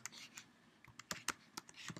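Keys on a Mac computer keyboard are typed at an uneven pace, with quiet, crisp clicks arriving in clusters and short gaps, close but faint.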